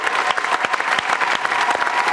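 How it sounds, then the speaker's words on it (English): A studio audience on a rugby talk show gives a guest loud, dense applause, close and continuous with sharp rhythmic claps throughout and faint crowd murmur beneath. "Will Carling, give a huge round of applause."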